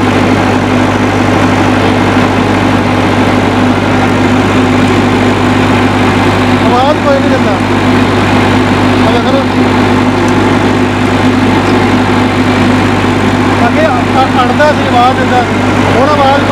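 A Massey Ferguson MF385 tractor engine runs steadily near the microphone, idling around 1500 RPM as first gear is engaged, with a constant loud drone and low hum; faint voices occur in the background.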